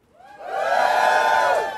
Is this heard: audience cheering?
yes